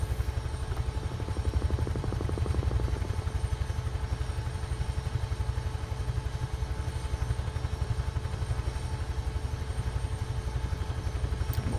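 A Huey helicopter in Microsoft Flight Simulator sets down on a small circular grassy patch, its rotor thumping in a fast, even rhythm over a steady engine drone, loud and close with no one talking.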